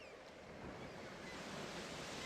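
Ocean surf in the Where in Time Is Carmen Sandiego video game, a steady, loud wash of broadband noise with wind-like hiss, continuous and without talk.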